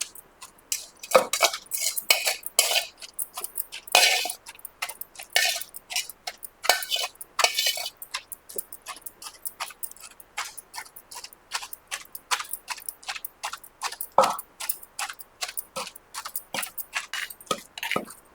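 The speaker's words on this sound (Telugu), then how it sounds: "ఇప్పుడు ఈ క్యాబేజీ కూడా ఇందులో వేసేసి మొత్తం దంచుదాం" Rapid, irregular clinking and knocking of a pestle in a mortar while pounding cabbage chutney, sharp repeated strikes close by with no talking.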